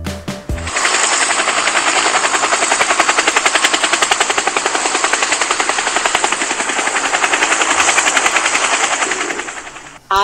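A helicopter's rapid rotor chop thuds on continuously and loudly for about nine seconds, then cuts off abruptly.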